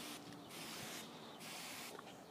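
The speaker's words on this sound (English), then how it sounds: "I'm going to be doing here is spraying the grapevines with my Bordeaux mixture" Hand sprayer misting Bordeaux mixture onto grapevines outdoors, a steady close hiss in several bursts of spraying separated by short pauses, with no talk.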